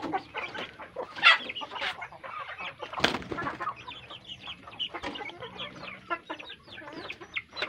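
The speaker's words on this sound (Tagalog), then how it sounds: "Ito yung pakainan para doon sa dalawang yung manok nating alaga na basilan mestizo." Basilan mestizo chickens cluck and chatter close by, with irregular bursts of clucking and a few louder squawks, and no talking.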